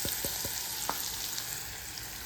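Lemon rice (chitrannam) tempering sizzles steadily in hot oil, with a few sharp crackles and pops early on over a constant frying hiss.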